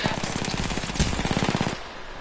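An automatic gun fires in Apex Legends, a fast rattling stream of shots for nearly two seconds that stops abruptly into quieter game ambience.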